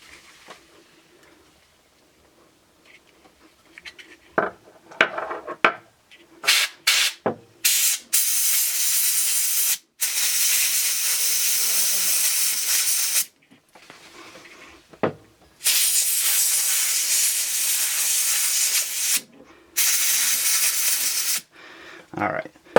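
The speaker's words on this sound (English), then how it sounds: "we're going to hit this with a little compressed air" Can of compressed air blowing into a fidget spinner bearing, long loud hissing blasts with short gaps, close up after a few quiet taps and handling.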